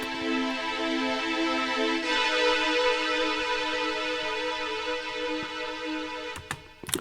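Sustained organ-like chords swell and fade in volume, droning steadily with an eerie, hollow tone, ending with a few sharp clicks.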